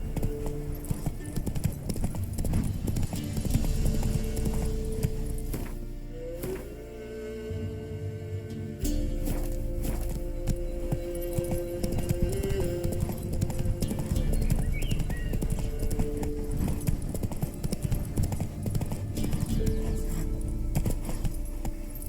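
Horse hoofbeats in the video game The Witcher 3, a steady clip-clop of hooves at a riding pace, close and continuous, with a brief neigh and game sounds alongside.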